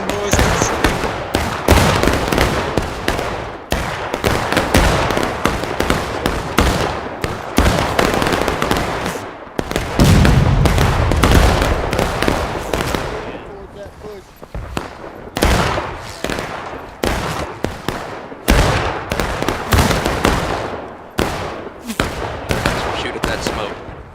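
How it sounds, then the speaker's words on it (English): Massed rifle volleys crackle and pop in a Civil War battle video game, dense overlapping shots at steady loud intensity with a heavier booming burst near the middle, shouted commands heard over the firing. "Shoot 'em, boys. Keep shooting."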